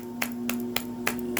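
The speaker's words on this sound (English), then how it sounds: "Take all of those claps." Hands clapping in a slow, even rhythm of four or five sharp claps, close and distinct over a steady low hum.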